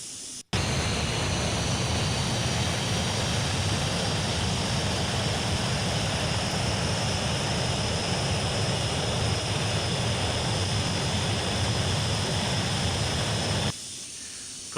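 Steady roar of a Tornado GR4 jet in flight at 350 knots within a flight simulator, a dense, unbroken engine hiss and rumble that holds constant for about thirteen seconds before dropping abruptly near the end.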